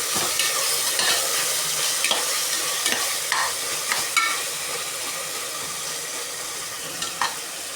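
Soaked soya chunks sizzle and fry in a hot pan for mushroom biryani, giving a steady close hiss broken by scraping clatters as the mixture is stirred.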